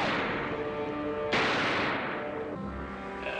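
Gunfire rings out inside a submarine in a TV adventure drama, with a sharp, loud shot at the start and a second blast soon after, each decaying into a rumbling echo.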